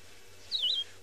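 A single bubbling, liquid bird note that rises and dips, like water pouring from a bottle, clear and fairly close against quiet outdoor safari background.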